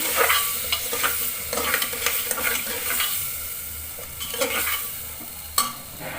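Chopped potatoes being stirred and mixed into food frying in a pan, repeated close scraping strokes over a continuous sizzle.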